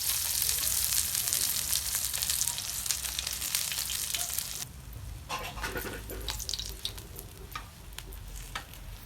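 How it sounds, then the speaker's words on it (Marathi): Colocasia leaf rolls sizzle steadily in oil on a hot griddle, a dense, loud crackle that dips slightly midway, with occasional scraping and stirring clicks from a spoon. "सगळे असे चिमकुऱ्याचे पानं आहेत ना ते तव्यावर फ्राय करून घ्यायचे"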